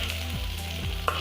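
Finely chopped onions sizzle and fry in hot oil for a homemade tomato gravy, a brief steady crackle close up, with a small clink near the end.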